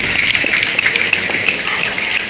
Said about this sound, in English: can you snap your fingers?